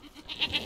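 A sheep bleats in the medieval farming game Medieval Dynasty, a short faint wavering cry of a few quick pulses with nothing else around it.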